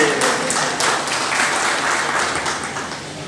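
Sustained applause from a gathered audience at a felicitation ceremony honouring teaching and non-teaching school staff, a dense wash of many hands clapping steadily for a few seconds and easing slightly toward the end.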